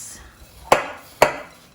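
Homemade almond and coconut granola stirred with honey in a bowl, two sharp scraping knocks from a utensil close by, each trailing off quickly.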